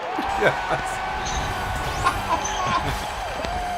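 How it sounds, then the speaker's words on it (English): Stadium crowd cheering inside a Madden NFL video game during a Los Angeles Chargers game, a steady broad roar with swells, with a voice talking over it. "Oh, listen to the crowd."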